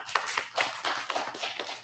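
A small group at an IETF 122 benchmarking working group meeting claps briefly for a colleague, a short patter of applause at moderate volume.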